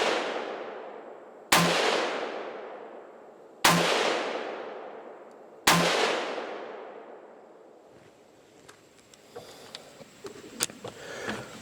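A rifle fires Ammo Inc 300 Blackout rounds outdoors, three loud separate shots about two seconds apart, each with a long ringing decay, followed by softer clicks and handling noise.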